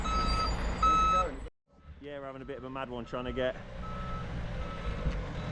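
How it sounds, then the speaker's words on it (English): A van's reversing alarm sounds as repeated electronic beeps in a narrow street, mixed with truck engine rumble. Someone talks over it at one point. "You can hear the velvet tones of DJ's van beeping."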